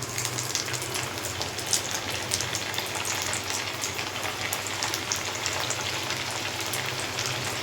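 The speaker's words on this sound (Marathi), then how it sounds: "तेल सगळं गरम झालं आता मी त्यात चकली सोडते" Chakli dough spirals fry in hot oil in a kadhai with a steady, dense crackling sizzle that continues without a break. No voices are heard.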